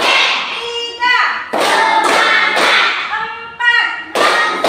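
A class of children clapping in a counted rhythm, sharp hand claps arriving in spaced bursts, with children's voices chanting along throughout.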